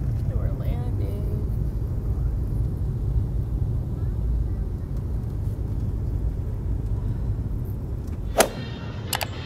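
Airplane landing heard from inside the cabin, a steady low engine and airflow rumble throughout, with a sharp knock or clatter near the end.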